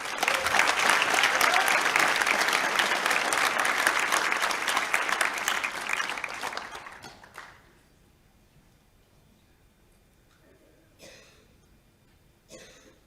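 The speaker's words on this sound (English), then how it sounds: "Round of applause." Audience applause at a graduation ceremony for film and visual communication degrees, loud and steady for about seven seconds before cutting off, followed by near silence with a couple of brief murmurs and throat sounds.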